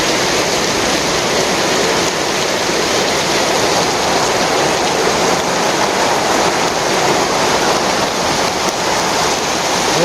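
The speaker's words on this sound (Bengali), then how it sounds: "রাস্তার উপর দিয়ে জল বেড়েছে জুড়ে বৃষ্টি" Heavy rain pours on a village road as water floods across it, making a loud, unbroken roar of falling and rushing water that stays constant for about ten seconds, with no one speaking.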